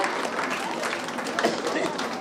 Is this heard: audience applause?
yes